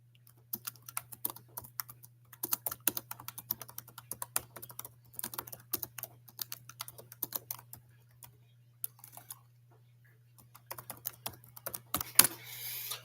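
Someone types a reply on a computer keyboard in close, uneven bursts of quick clicking keystrokes with short pauses, over a faint steady low hum, ending with a louder clack.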